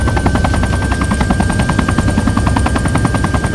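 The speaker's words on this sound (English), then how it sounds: "Chopper high left." Helicopter in the military shooter game Arma 3 thumps steadily overhead with a loud, continuous rotor chop and turbine whine, filling the whole stretch with no talk.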